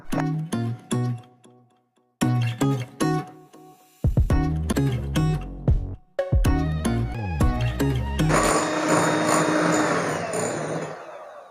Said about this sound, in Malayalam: നമുക്കിത് നന്നായിട്ടൊന്ന് ബീറ്റ് ചെയ്തെടുക്കാം